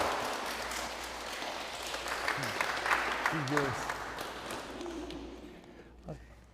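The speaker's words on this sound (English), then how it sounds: "Round of applause if you believe that." Wedding guests applauding during a livestreamed ceremony, a sustained wash of clapping from a modest crowd in a room, with a few faint voices mixed in and tapering near the end.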